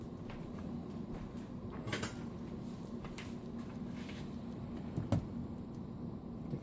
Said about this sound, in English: I'm going to dish me some up